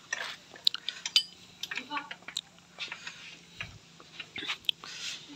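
Metal parts of a Hero Glamour 125 motorcycle clutch, including the clutch plate, are handled close up, giving a string of light clinks, taps and scrapes in irregular rhythm, with faint low voice underneath.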